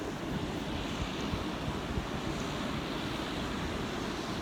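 Ocean waves washing in at outgoing tide, a steady broadband rush of surf with some wind buffeting on the microphone and no voices.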